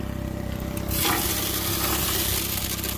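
A half scoop of dirt poured into a small Royal Explorer dry washer: a steady engine hum, then a sudden loud hissing rush of soil sliding down the box that keeps going to the end.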